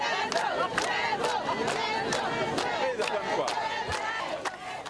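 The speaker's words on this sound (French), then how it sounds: "Le chef de l'État, les membres du gouvernement et les délégations invitées sont acclamés ici par les femmes, les jeunes" A large crowd of women and young people roars and cheers in acclaim for the head of state at an agricultural fair in the Cascades region, a dense, sustained mass of shouts with sharp individual cries rising through it.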